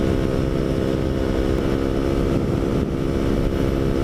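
A KTM 125 motorcycle hums along at a steady engine note, a close, continuous drone with a brief dip in the middle and no speech.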